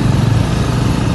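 A motorcycle engine strains on a rough, bumpy mountain road between Nuwakot and Rasuwa, a loud, close, continuous low drone with a buzzing mechanical edge and no voices.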